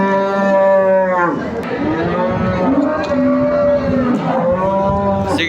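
A large cow at a livestock market moos loudly and close by, several long drawn-out lowing calls in a row, with faint background chatter.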